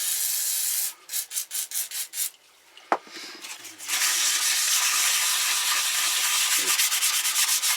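Rearsets on a Suzuki Bandit 1200 motorcycle are polished with WD-40, giving a series of short rubbing strokes, a brief pause and a sharp clack, then a close, steady scrubbing hiss.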